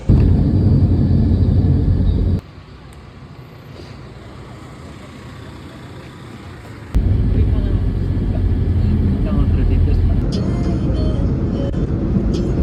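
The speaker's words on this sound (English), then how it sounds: "That was the craziest bus ride I've ever had in my life" A shuttle bus rattles over a rough road in Nicaragua, its cabin filled with a heavy rumbling drone that drops to a quieter hum for several seconds before surging back loud.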